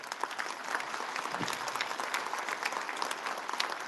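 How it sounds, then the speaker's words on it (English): A crowd at the 2024 Drag Illustrated 30 Under 30 press conference applauds, a dense steady clatter of many hands clapping throughout, moderately loud with no talk over it. "quick little round of applause for my team at Drag Illustrated."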